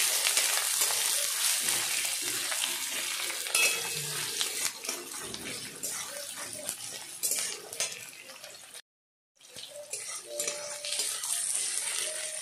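Chopped onion and garlic sizzle and fry steadily in a hot pan, a loud continuous crackle with occasional utensil clinks, briefly cut to silence near the end before resuming.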